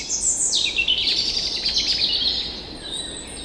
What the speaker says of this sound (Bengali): ভোরের পাখিদের কিচিরমিচির